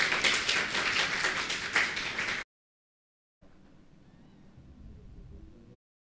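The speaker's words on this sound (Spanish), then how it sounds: "esta noche vamos a recibir con gran aplauso Evangelista Esteban Cho" A church congregation at an evening prayer service bursts into loud, dense applause to welcome evangelist Esteban Cho. The clapping lasts a couple of seconds and stops abruptly, followed by a pause and then quiet room murmur.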